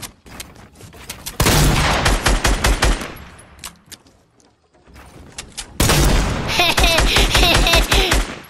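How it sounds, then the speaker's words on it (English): Bursts of rapid automatic gunfire from several players at once in a battle royale shooter game, loud volleys separated by a brief lull, with no talk. "How much teams have to shoot at me at once?"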